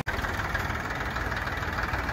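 A 2014 Massey Ferguson 241 tractor engine idles nearby with a steady, even diesel rumble and faint knocking, running continuously after a brief cut at the start.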